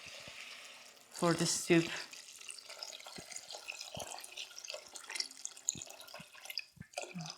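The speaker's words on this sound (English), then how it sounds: "we're gonna add some water" Water runs into a pot on the stove for oyster mushroom broth, roughly a liter poured in with a splashing, trickling sound under a woman's brief speech, followed by faint drips and kitchen clatter.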